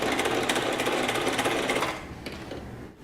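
A sewing machine stitches fabric with a fast, steady mechanical whir and rapid needle clatter, loud and close, running continuously before slowing and stopping near the end.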